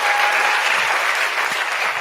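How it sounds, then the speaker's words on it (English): Dense, loud audience applause fills a TEDx-style talk venue, a continuous roar of many hands clapping at close range with no voices over it. "Wait for that applause, Lily"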